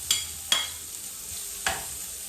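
Ginger dropped into hot oil to fry for a sarciado of dalagang bukid fish gives a steady soft sizzle, broken by three sharp stirring scrapes.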